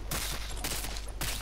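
Gunfire in Fortnite Battle Royale, loud bursts of shots in quick succession, roughly three volleys within a second and a half, close and dominating.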